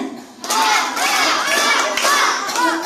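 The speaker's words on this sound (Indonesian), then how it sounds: "Nanti kalau ada musik tepuk tangannya sambil teriak ha ha ha ha." A group of children shouting together loudly in a sustained, excited chorus of high voices, with rising and falling bursts.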